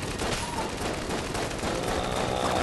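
A weak pea shooter pistol fires in Enter the Gungeon, rapid shots blending into a continuous loud clatter of gunfire and game effects.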